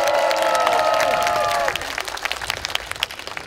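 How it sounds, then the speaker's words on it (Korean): A festival concert crowd claps and cheers while a sung or sustained musical note fades out, then scattered clapping and shouts carry on more thinly after the music stops. "여러분 뜨거운 박수 함성 부탁드려도 될까요?"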